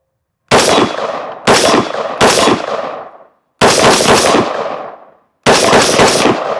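Daniel Defense Mk18 pistol with a Law Tactical folder firing five loud, close bursts of rapid shots outdoors, each burst ringing off briefly before the next, with short silent gaps between them.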